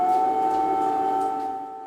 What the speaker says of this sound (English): take the metro when we hear an air raid siren